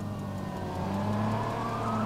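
Police patrol car in Watch Dogs: a steady engine hum with a rising, wavering siren tone, moderately loud and continuous, no voices.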